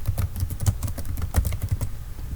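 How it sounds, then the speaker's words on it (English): A short sentence is typed on a computer keyboard in MS Word, with a rapid, steady run of close, crisp key clicks and no voices. "I'm going to type a sentence."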